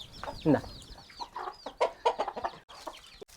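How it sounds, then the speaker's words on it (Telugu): Chicken clucking near children eating at a village school in a tribal village, short irregular clucks and squawks, with children's voices and chatter mixed in around them. "ఒరేరా కోడి తినేస్తుందిరా కోడి తినేస్తుందిరా"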